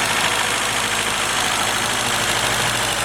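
A Willys L134 engine idling with a fresh radiator fitted, a loud, close, steady mid-pitched chug with an even rhythmic pulse and slight knocking vibration, running alone without voices.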